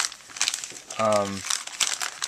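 Plastic bag holding a Fenix PD30R4 flashlight crinkling in close handling, bursts of rustling crackle around talk, with a short droning hum in the middle.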